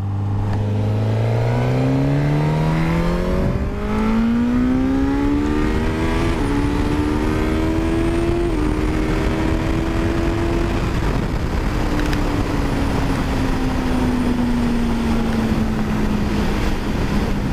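A 2022 Suzuki GSX-S 1000 motorcycle accelerates hard through several gears, its engine note climbing in pitch, dropping at each shift and climbing again, loud and close throughout with no talking.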